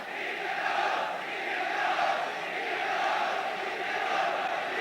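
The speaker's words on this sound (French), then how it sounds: "La foule l'acclame." A large crowd in Montreal cheers and acclaims de Gaulle as he appears on a balcony, a dense, distant roar of many voices swelling and holding steady.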